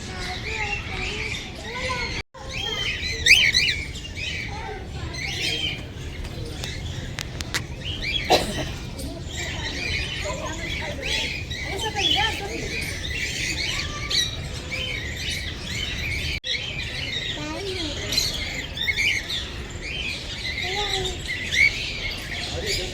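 Birds in a nature park aviary, including a hen house with nests, chirp, tweet and squawk in a busy overlapping chorus, with one louder squawk early on and occasional voices nearby.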